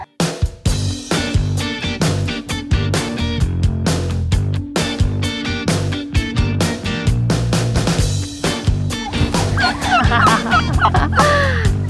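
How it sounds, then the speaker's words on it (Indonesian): Blue slate turkeys gobbling and calling loudly, a dense continuous chorus of fowl nearby with overlapping honks and clucks. "Jenis kalkun tuh ada banyak, salah satunya ini blue slate"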